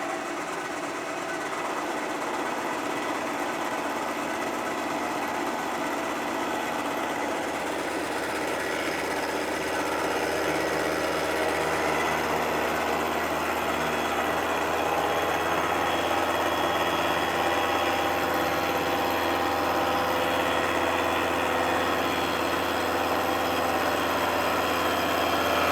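A machine takes a very light cut on a block held loosely in a vise, a steady high whine with mechanical hum that runs unbroken and fairly loud for the whole stretch.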